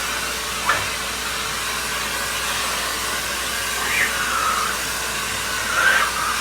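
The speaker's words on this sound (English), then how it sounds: "when doing ceiling fans, is vacuum that dust up" A vacuum cleaner sucks dust off a ceiling fan, giving a steady, loud airy whoosh that holds throughout with a few brief bumps and swells.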